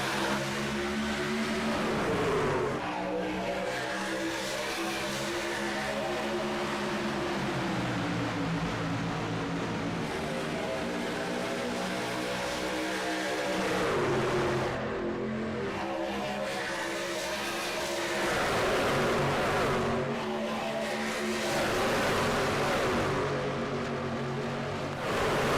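A field of race cars and trucks roars away under green flag at Atlanta Speedway, a dense, loud, continuous engine drone swelling and fading as the pack passes, with no talking.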